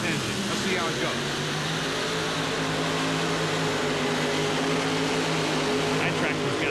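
A multi-engine pulling tractor running four Keith Black engines plus a Chevy-based Aries engine roars steadily at a Monster Jam event in the Houston dome, a loud sustained drone with speech faintly over it.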